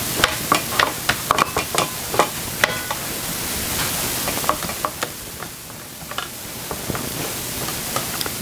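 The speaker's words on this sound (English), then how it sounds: "I'm just going to press this down into part of this baking sheet." Hands press pizza dough down into a metal baking sheet, making soft rubbing and shuffling with scattered light taps and clicks against the pan, close and steady, with no talking.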